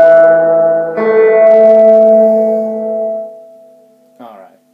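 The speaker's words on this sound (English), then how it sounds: "Alright, that's the reverb." Sustained guitar chords ring through a VibroChamp amp with its reverb turned way up, a long washy decay fading out before a short buzzy strum near the end.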